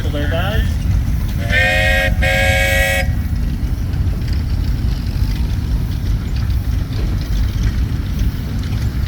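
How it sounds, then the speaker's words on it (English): An antique steam traction engine whistle gives a short toot, then a steady blast of about two seconds over the low, continuous rumble and chuff of the engine. "How about a whistle there, guys?"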